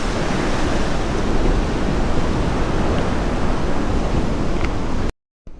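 Big ocean waves at Watulumbung beach, a loud, unbroken roar of surf and wind that fills the whole stretch before cutting off abruptly near the end.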